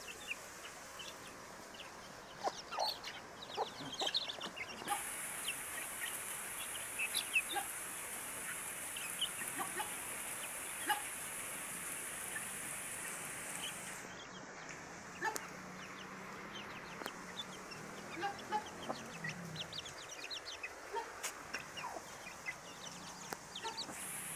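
Chickens cluck and call intermittently while feeding, close by and fairly faint, over a steady background hiss that sounds like heavy rain, with no talking.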